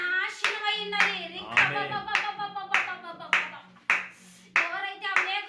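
A church congregation claps hands together in worship, a run of sharp, fairly loud rhythmic claps rising and falling in bursts, with some voices mixed in among the clapping.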